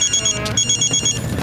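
A telephone rings with a short, bright repeating electronic ringtone. It is close and fairly loud, with a faint voice underneath.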